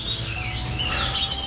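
A cage bird in an aviary gives a few brief, high chirps over a low background hum, with no speech.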